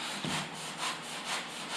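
Rhythmic back-and-forth sawing strokes through 2.5-inch foam, soft and rasping, about three passes in quick succession, close by.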